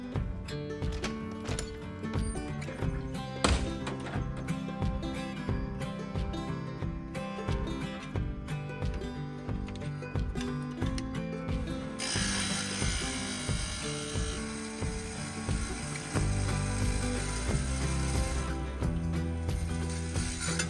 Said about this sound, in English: All right, let's go cut our first tile.